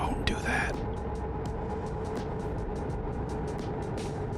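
Steady low engine drone of a truck in American Truck Simulator, a constant rumble with a brief louder rattle near the start and faint repeating clicks above it.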